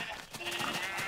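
A white sheep bleating in a farming video game, a short wavering bleat heard close and clear with light voice-like sound alongside.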